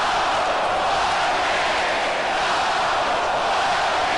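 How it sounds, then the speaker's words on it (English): Huge crowd in a hockey arena at a WHL Final Game 7, Portland Winterhawks against Edmonton Oil Kings, a dense, steady roar of noise filling the space without a break. "Huge crowd here, making lots of noise, really enjoying the night"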